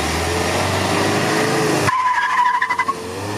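A Toyota Celica Supra RA65 on a road test after a new throttle cable part was fitted. Steady engine and tire roar cuts off abruptly, leaving a fading whine and some pulsing rumble.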